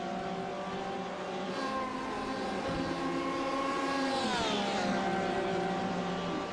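GTE race cars at speed at Road Atlanta during a 1000 km endurance race, a loud sustained engine roar with a pitch drop as one car passes, heard from trackside without voices.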